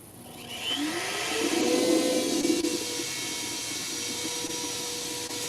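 A 65mm NymoLabs spindle on a CNC router spins up, a rising whine that settles into a steady high-pitched whirring drone, moderately loud and continuous, with no voices.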